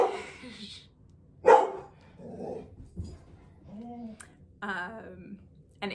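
A dog barks in short sharp bursts indoors, with yips and whimpering between, fairly close and moderately loud against a quiet room.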